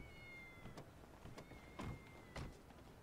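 A cat meows inside the video game GTA V, a few short cries heard faintly against a steady background hum of game ambience.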